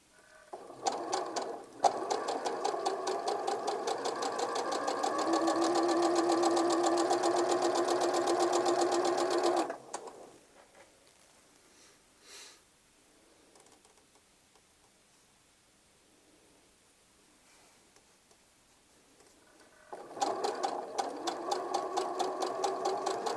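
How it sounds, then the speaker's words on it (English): A sewing machine stitching a quilt seam, running fast and steady for several seconds close by, falling quiet for a stretch, then starting up again at the same steady pace. "I'm just going to sew down this line right here."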